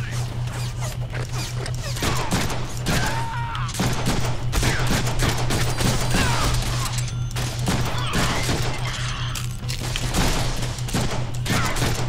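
Dense, nearly continuous gunfire from the Deadpool video game, with rapid overlapping shots and bursts and scattered louder booms over a steady low electronic hum.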